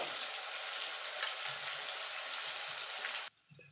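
Potatoes sizzling in hot oil, a loud continuous frying hiss close by with light stirring, cutting off abruptly near the end to near silence.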